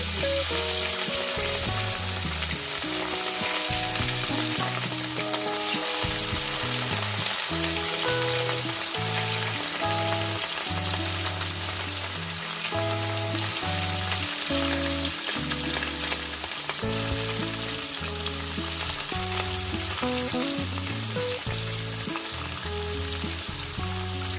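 Pieces of rohu fish fry in hot oil in a pan, a loud continuous sizzle and crackle running steadily throughout with faint clinks, no talking.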